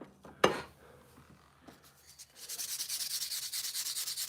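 Hand sanding a tobacco pipe by a pipe maker: a sharp knock at the start, a few quiet scrapes, then a steady rhythmic rasp of sandpaper strokes, close and fairly quiet, with no talking.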